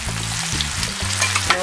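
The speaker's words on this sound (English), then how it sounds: "I add blended chili pepper." Blended chili pepper sizzles as it goes into a pot of pepper that has been frying for a while; a steady close crackle runs throughout with a low rumble underneath and a few brief stirring scrapes.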